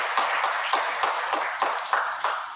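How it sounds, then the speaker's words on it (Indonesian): Congregation applauding during an in-person church service in a hotel hall, a steady wash of many hands clapping with periodic louder swells, fairly close and continuous throughout. "Berikan tepuk tangannya sekali lagi buat kami."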